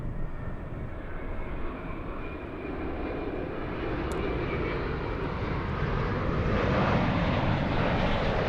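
An All Nippon Airways airliner arriving after a long flight from Haneda passes with a loud, broad jet engine roar that builds steadily and stays strong throughout, heard from nearby outdoors.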